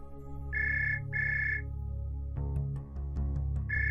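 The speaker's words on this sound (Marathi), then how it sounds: "अगं तुझा पण फोन वाजतोय." A mobile phone rings with repeated bright beeping bursts in a short rhythmic pattern over a tonal musical background, fairly close and clear, resuming after a brief pause.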